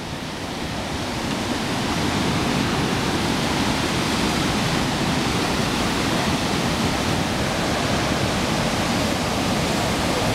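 A raging river floods over a road, its water rushing in a loud, unbroken roar that swells slightly after the opening seconds and then holds steady, close by with no voices.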